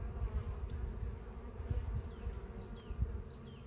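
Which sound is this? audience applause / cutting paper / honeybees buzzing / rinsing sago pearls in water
honeybees buzzing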